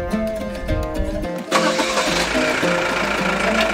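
Car engine cranking over with a rapid rhythmic churn for about a second and a half, then catching and settling into a steady, fairly loud idle, close by, with no talk.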